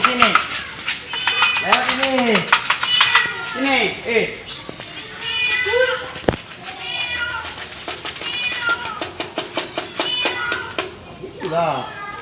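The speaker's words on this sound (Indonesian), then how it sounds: "Itu kucing yang hitam tadi." A very hungry black cat meows repeatedly and loudly up close while being fed, with several rising and falling cries. People talk over and between the meows, and a bird coos faintly in the background.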